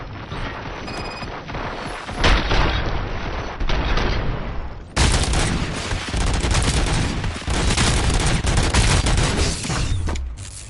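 Sustained gunfire in RoboCop: Rogue City: dense, loud volleys of rapid shots running almost without pause, surging again after a short dip, up close and with no talking.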